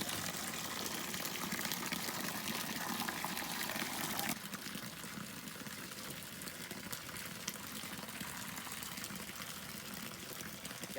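Water gushes steadily from a DIY solar-powered water pump, a continuous loud rushing flow that shifts to a slightly softer, steadier stream partway through, with no talking.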